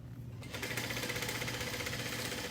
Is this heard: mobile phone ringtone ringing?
no